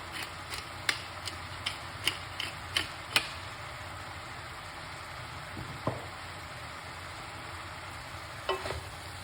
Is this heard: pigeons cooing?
no